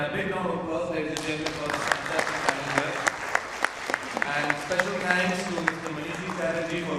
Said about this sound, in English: a big round of applause, ladies and gentlemen, for this fantastic panel here